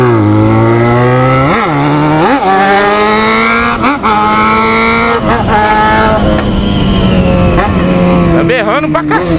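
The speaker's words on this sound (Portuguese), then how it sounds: "tá saindo muito o som do escape" A Yamaha XJ6 motorcycle with its exhaust welded straight to the collector revs hard and loud, with repeated sharp blips rising and falling over a raspy idle. Voices talk over it.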